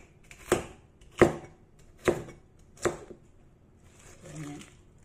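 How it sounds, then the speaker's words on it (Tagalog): A knife slices through cabbage on a cutting board, four distinct sharp chops at a slow, uneven pace, close and fairly quiet, followed by a softer muffled sound. "I-cut ko lang yan ng ganyang kanipis."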